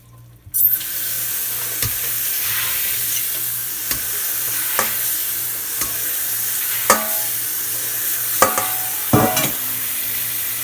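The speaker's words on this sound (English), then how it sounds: "Rinse and thoroughly wash your lentils." Lentils being rinsed and washed in water give a continuous close hiss of running water, broken by scattered clinks and swishes of stirring and handling, with no voices.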